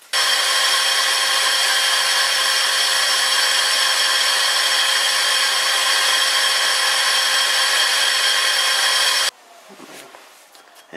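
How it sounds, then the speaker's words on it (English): A vintage lathe taking a cut on cast iron with a worn insert, producing a loud, steady, harsh whine for about nine seconds before stopping abruptly, followed by quiet clatter. "It's a lot harder to cut cast iron than I thought it would be."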